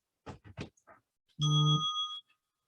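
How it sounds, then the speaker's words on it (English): Brief speech gives way to one clear, sustained bell tone from a phone chime app, ringing for under a second before cutting off into silence. "a chime I have on my phone that randomly rings a bell"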